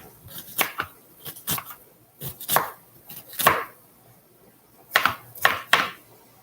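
Red onions are chopped for vegan chili: sharp knife strikes on a cutting board come in uneven clusters of two or three with short pauses between, close and crisp, and no one speaks.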